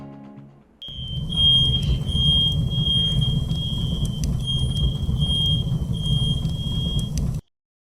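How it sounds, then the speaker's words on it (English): A high-pitched smoke alarm beeps and shrills continuously over a loud low rumbling roar, then everything cuts off abruptly. "You can hear the alarm in the background right now."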